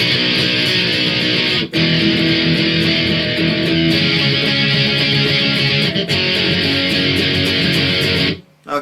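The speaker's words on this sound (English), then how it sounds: "Okay, they're the chords, and they'll sound like this then." Heavily distorted electric guitar strums the chords of a song in a dense, sustained wall of sound, with two brief gaps between chord changes and an abrupt stop near the end.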